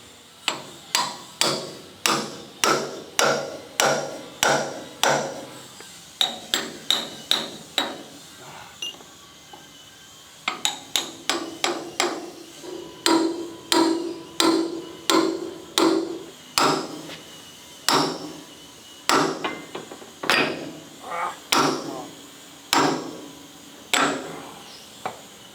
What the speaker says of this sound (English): So we'll put some wedges in there and pry it out even and it should fall out.